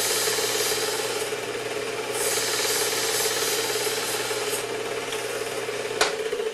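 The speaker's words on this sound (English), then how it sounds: "do the same number of strokes so they grind a nice even bevel on each side of the knife blade" Work Sharp 2000 belt sharpener grinding a bevel on a knife blade, a steady abrasive rasp with a constant motor hum running throughout, close and moderately loud, with a sharp click near the end.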